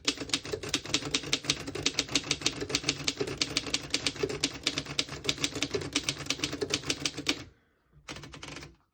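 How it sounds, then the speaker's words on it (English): Typing on a 1919 Underwood No.5 antique desktop typewriter, a fast, steady run of crisp key strikes close up for about seven seconds, then a pause and a brief mechanical clatter. "I'll type a sentence on the next line."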